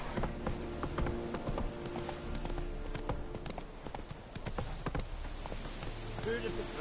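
Roach, Geralt's horse in The Witcher 3, trots with steady clip-clop hoofbeats on the ground, close and rhythmic, with brief bits of speech over them.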